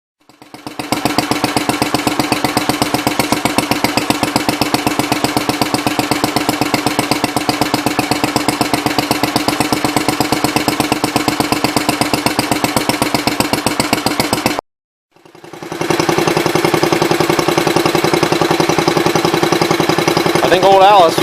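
An Allis Chalmers B10 garden tractor engine thumps in a rapid, steady rhythm close by, cuts out for a moment, then restarts and keeps running loudly.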